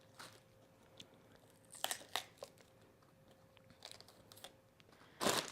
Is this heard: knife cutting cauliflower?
yes